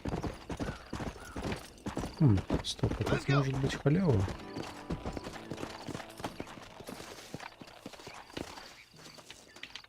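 A horse gallops in Red Dead Redemption, with hard, quick hoof strikes loud for the first few seconds before easing into softer, sparser steps while someone speaks over the game sounds.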